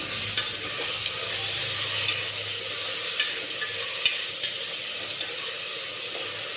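Onion and tomato fry in a pan for home-made egg biryani, giving a continuous steady sizzle and hiss close by, dotted with faint occasional stirring clicks, with no one talking.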